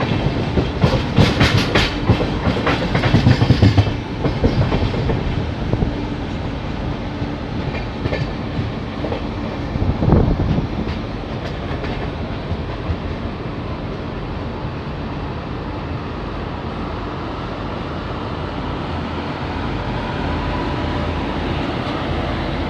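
Howrah–Darbhanga Express train running on rails between Kolkata and Deoghar, a loud, steady rumble with clattering wheel beats, strongest early and settling into a continuous roar.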